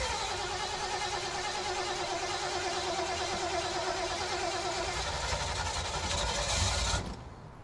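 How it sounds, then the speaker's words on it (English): An old truck engine runs at a steady, throbbing idle close by for several seconds, then cuts out abruptly near the end. "Assuming the old truck makes it."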